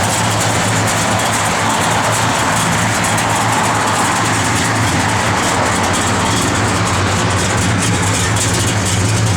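A 1970 Plymouth Road Runner V8 with a lumpy cam rumbling loudly and steadily up close, with a deep continuous engine drone throughout.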